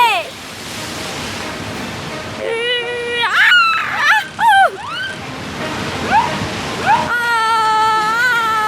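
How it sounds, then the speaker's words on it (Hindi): Big cartoon waves crash and splash around a small boat in a steady broadband roar, then animated character voices with sweeping pitched tones sound over the surging water. "लहरें बहुत बड़ी हो जाती हैं।"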